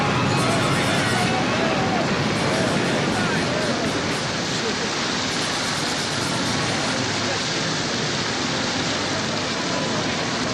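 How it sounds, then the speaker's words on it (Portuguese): Storm waves crash over and flood a boat on a rough sea in a dramatized scene. A loud, continuous roar of surging water and wind rushes on without a break. "As ondas inundam o barco!"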